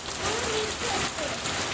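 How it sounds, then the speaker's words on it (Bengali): Heavy rain pours down steadily over city flats and flooded streets, a dense, close, continuous wash of drops hitting surfaces with no break for the whole stretch. "কি হারে বৃষ্টি হচ্ছে"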